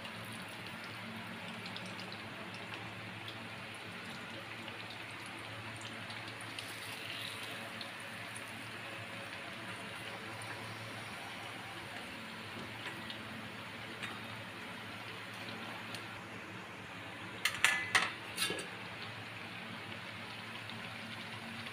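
Bread pakoras fry in hot oil in a pan with a steady, even sizzling hiss that runs throughout, broken near the end by a brief clatter as they are turned over.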